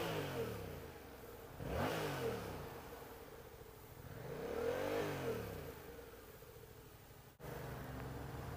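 A Yamaha MT-07 (FZ-07) motorcycle engine revs up twice, pitch sweeping higher then falling, over a steady idle and traffic noise, fairly close.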